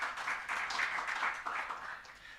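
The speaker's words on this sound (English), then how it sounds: "A round of applause that as he comes." A conference audience applauding, a steady wash of many hands clapping together, fairly faint and distant, with no voices over it.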